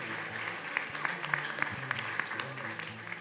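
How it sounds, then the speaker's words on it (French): Fairly faint, steady applause from the audience at a Miss pageant evening, many hands clapping together with a few sharper individual claps standing out, carrying on evenly without a break. "On peut les applaudir bien fort encore."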